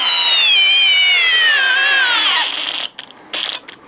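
Bosch multi-chuck drill driver running in speed 2, a loud, close motor whine that slowly drops in pitch under load, then cuts out into short choppy bursts and pauses.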